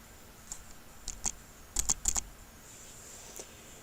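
Keys on a computer keyboard tapped to enter a number: a few scattered clicks, then a quick cluster of presses, close and fairly quiet with no talking.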